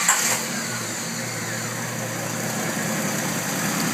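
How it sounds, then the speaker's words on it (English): A 1988 Jeep YJ with a 4.2L six-cylinder catches on a single crank, then settles into a steady, smooth idle heard up close with no talking. "Fire over here, see if we get her in a single crank or if she takes 2."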